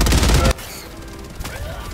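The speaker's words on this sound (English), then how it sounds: "Oh, no, you shot me!" Rapid gunfire from the video game Helldivers 2, a loud dense burst of shots at the start, then quieter scattered firing and game effects beneath.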